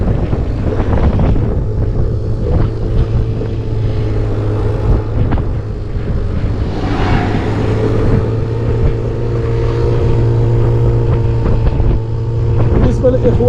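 A SYM Symphony scooter engine drones steadily on the road from Casablanca toward Azemmour, with a constant low motor hum and wind buffeting the microphone as a rider talks over it.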